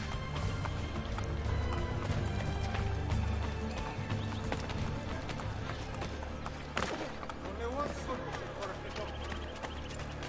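Hooves clip-clop at a running pace during a chase in Assassin's Creed Brotherhood, with game background music and a voice talking over it.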